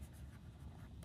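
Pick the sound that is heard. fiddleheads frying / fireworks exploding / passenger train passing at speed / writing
writing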